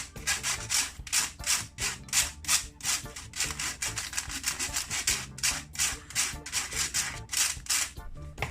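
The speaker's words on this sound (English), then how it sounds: "I'm just going to use a spoon to rub it out." A spoon rubs dry muffin ingredients through a sieve in steady, rhythmic scraping strokes, about two per second. The sound is close and continuous and carries on alone.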